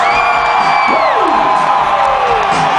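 A large concert crowd at a Rockstar Mayhem metal show cheers, whoops and yells loudly and continuously, a dense roar of voices close around the listener.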